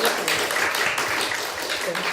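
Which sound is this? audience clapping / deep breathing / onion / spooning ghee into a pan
audience clapping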